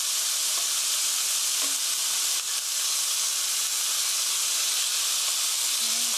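Meat for japchae stir-frying in a pan, giving a constant loud, close sizzle and hiss that runs unbroken, with only faint stirring touches beneath.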